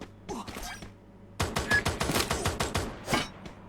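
Rapid bursts of gunfire in a video game during team practice, a short volley first, then a longer rattling string of close, sharp shots after a brief pause.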